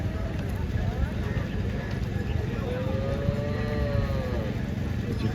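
Cattle at the busy Neknoor livestock market, with a cow's long, low moo rising in the middle over a constant din of crowd chatter and animal noise.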